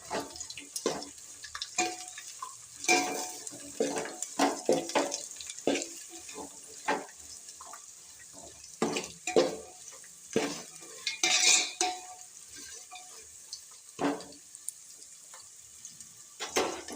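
Pulao ingredients with beetroot and carrot are stirred and fried in a pan. Repeated scraping strokes come in irregular bursts over a soft sizzle, fairly close, with no voices.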